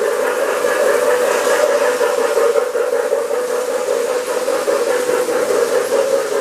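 A postwar toy train whistle sounding as one continuous breathy, reedy chord with a hissing edge, held steadily and loudly throughout with no break and no talk.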